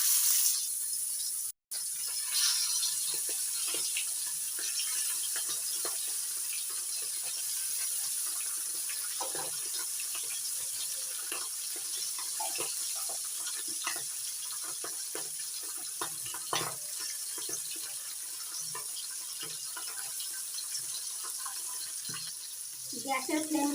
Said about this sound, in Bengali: এবার ট্যাংরা মাছগুলো গরম তেলের মধ্যে ছেড়ে দিচ্ছি